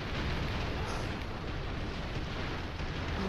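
Steady, heavy rumbling of explosions in the video game Broforce, one blast running into the next in a loud, unbroken wall of noise.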